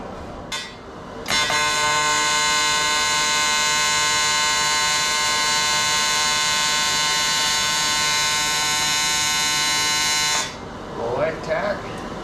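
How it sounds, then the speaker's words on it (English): A TIG welder runs steadily for about nine seconds while tacking a custom turbo kit, a loud, even electrical buzz that starts abruptly and cuts off sharply, with brief quieter handling noise before and after. "Flip on the TIG welder"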